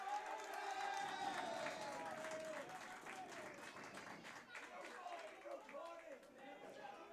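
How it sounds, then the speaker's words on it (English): A crowd at a football cup final cheering and clapping in the distance, a swelling roar that eases off gradually, heard under a commentator talking throughout. "There's a big cheer for something."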